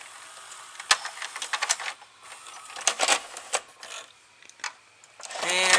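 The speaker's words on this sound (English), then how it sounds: "Now I'll give you one last look at that loading motor." A Sony SLV-D300P DVD/VCR combo's tape loading motor whirs and clicks, with irregular mechanical ticks and rattles up close, ending in a rising whir.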